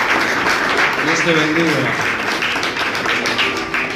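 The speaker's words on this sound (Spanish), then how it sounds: "Dé un aplauso a Jesús" Congregation applauding during a church service, a sustained wash of clapping beneath someone speaking over it.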